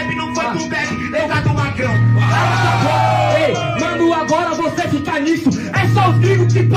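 A crowd yells and whoops loudly at a Brazilian freestyle rap battle over a beat, a dense sustained roar of shouting voices with musical tones underneath.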